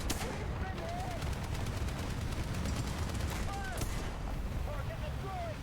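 Artillery and gunfire in a tank battle video game, a continuous loud barrage of rapid shots and booms with whistling shells, dense and unbroken throughout.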